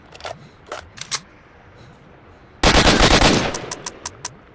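Gunfire in the video game Stalker: Shadow of Chernobyl: a few scattered single shots, then a loud sustained burst of automatic fire that stops abruptly, followed by several sharp isolated clicks as the gun jams.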